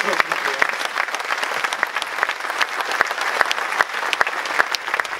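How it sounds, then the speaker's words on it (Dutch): Warm audience applause greeting a general director at a town event in Almelo, a dense continuous patter of many hands with some sharper individual claps standing out, fairly close and loud. "Begroet u alsjeblieft met een hartelijke applaus."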